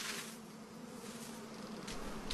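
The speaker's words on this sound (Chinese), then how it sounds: "喜马拉雅悬崖蜂是世上最大的蜜蜂，" Himalayan giant cliff honey bees hum in a faint, steady buzz of a swarm on a cliff face, soft and fairly distant, with a brief louder rise near the end.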